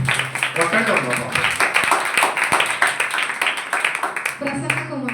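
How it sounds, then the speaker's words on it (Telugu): Audience at a Christmas church gathering clapping loudly and steadily, a dense continuous wash of hand claps filling the whole stretch, with a few louder individual claps standing out near the end. "గట్టిగా చప్పట్లు కొడదాం"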